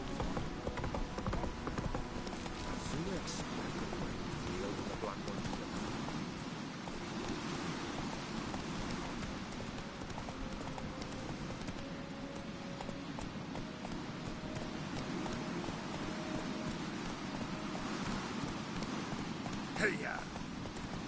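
Hooves of Roach, a horse in The Witcher video game, clip-clop steadily throughout over a dense ambient bed, with voices speaking at moments.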